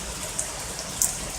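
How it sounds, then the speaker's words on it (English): Rain falls on a small urban front garden, giving a steady, close hiss of drops with a couple of brighter splashes standing out. "So we're very happy that it's raining."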